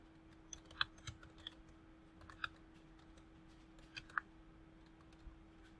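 Keys tapped on a computer keyboard while entering an email address, a soft irregular run of faint clicks with a few sharper strokes over a steady low hum.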